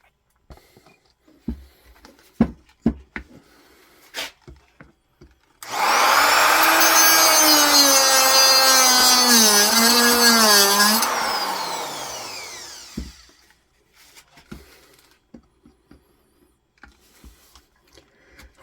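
A Dremel rotary tool whines at high speed for several seconds while working on a Yamaha Virago motorcycle, its pitch dipping under load, framed by scattered clicks and handling knocks.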